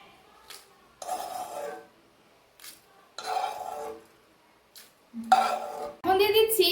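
Fried whole chillies and five-spice seeds scraped from a pan into a bowl with a metal spoon, giving short bursts of clinking and scraping between pauses and ending in a brief sizzle.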